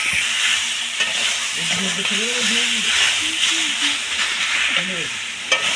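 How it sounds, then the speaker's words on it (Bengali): Raw mango chutney with turmeric frying in a pan, a steady close sizzle and hiss running throughout, with occasional stirring clinks and a faint voice humming underneath. "খুব ভালো করে পুরো আমের সঙ্গে মিশিয়ে নেব, আবার কিছুক্ষণ ভাজা হওয়ার জন্য ছেড়ে দেবো।"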